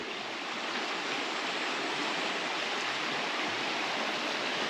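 A river rushes under a bridge beside a road past old ruins, giving a steady, dense broadband wash of flowing water with no voices.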